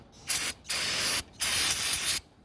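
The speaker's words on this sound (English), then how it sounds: "I like to just spray off all the residual oil" Three bursts of spray wash residual oil off a VW 2.0 TSI engine, a short hiss, then two longer sustained blasts with brief pauses between, close and loud with no talking.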